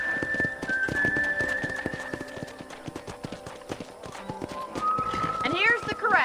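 In the video game Red Dead Redemption, hooves clip-clop steadily at a trot throughout at a ranch corral, and a horse lets out a high whinny near the end.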